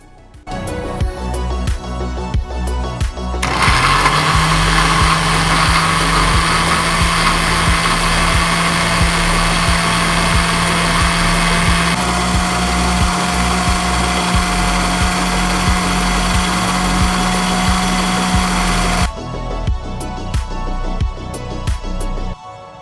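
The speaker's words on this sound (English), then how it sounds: "Place the aloe vera cube and onion pieces into your blender and blend until it forms a smooth paste." A kitchen blender grinds aloe vera cubes and onion pieces into a smooth paste. A loud, steady motor whine runs continuously for about fifteen seconds, then cuts off, with clattering before and after.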